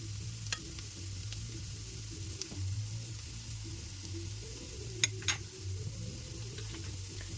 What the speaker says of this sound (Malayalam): കുറച്ച് എണ്ണ ഒന്ന് ഒഴിച്ച് കൊടുക്കുവാണ്.